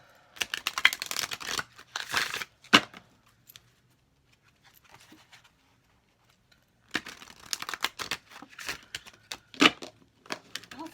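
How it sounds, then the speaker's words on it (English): Oracle cards being shuffled by hand in quick crisp riffling bursts, two clusters of rustling separated by a quiet pause. "We'll do 3 quick shuffles."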